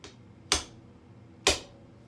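Two crisp, light taps sound about a second apart, close and quiet, as a golf club head is tapped snugly down onto its shaft.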